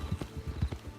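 Horse hooves clip-clop at a steady walking rhythm in the Red Dead Online game, several distinct, fairly close thuds across a short stretch with no talk over them.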